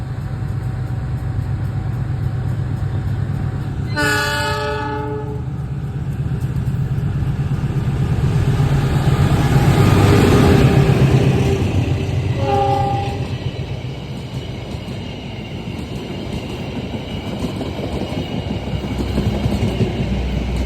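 Logawa passenger train passing Rejoso station, its horn sounding a loud harmonic blast early on, then a shorter second blast later, over a steady rumble of wheels and cars rolling past nearby.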